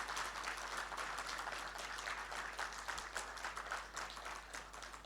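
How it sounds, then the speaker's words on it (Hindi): Steady, energetic clapping fills the room as a seminar audience in India applauds, a thick continuous patter with slight swells and no voices breaking through. "तालियों से ही पता लगेगा हमें कितना प्यार है अपने प्रोफेशन से।"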